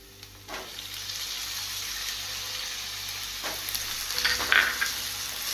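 Tomato sautéing with onions in a pan for masala bhindi, giving a steady, moderate sizzle throughout, with a brief louder burst of stirring near the end and no talking.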